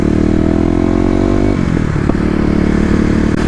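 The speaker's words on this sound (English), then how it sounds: "with my visor up, I really can hear that snorkel and the intake noise a lot more" A Kawasaki KLX250 motorcycle fitted with a 13-tooth sprocket drones steadily while riding, its engine and intake snorkel noise loud and close, with the pitch dropping and then settling partway through.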